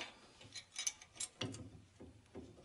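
A steel axle sliding through the metal bushings of a car's torsion-bar front suspension upper arm, with light clicking and scraping contacts in irregular bursts, close and fairly quiet, no talking.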